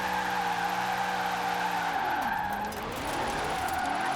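Corvette C8 tires skid hard under the handbrake in Forza Horizon, a loud sustained squeal over a steady engine drone, the pitch bending and wavering midway as the slide deepens, with no voices.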